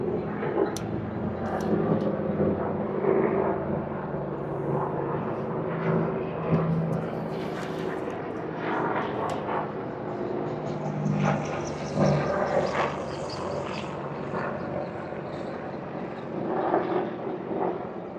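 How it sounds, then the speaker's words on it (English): A steady, heavy helicopter drone passes overhead and keeps up throughout, with no voices. "Oh, helicopter, get it, get it, get it."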